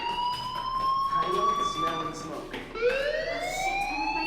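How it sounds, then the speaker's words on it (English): Fire alarm in the video game Life Is Strange rings as a loud, continuous electronic wail with rising and falling tones, sweeping upward again near the end. "Hey, do you hear that fire alarm?"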